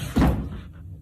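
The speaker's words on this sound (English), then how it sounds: "that did sound like a door opening" A single dull thump or creak like a door opening in a house, fairly loud and close, fading quickly into quiet room tone.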